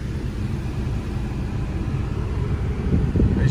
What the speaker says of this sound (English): Nothing touches the car but the liquids and chemicals that this machine sprays over the car